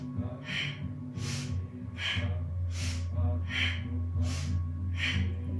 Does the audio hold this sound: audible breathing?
yes